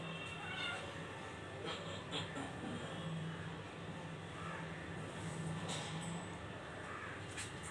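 A cat, domestic or wild, meows repeatedly while someone tries to catch it, the calls rising over steady loud background noise with a low hum throughout.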